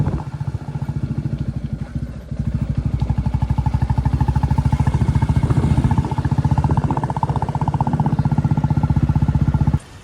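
Motorcycle engine running close by in a fast, even idle chug that steps up slightly after a brief dip, then cuts off abruptly as the bike is parked.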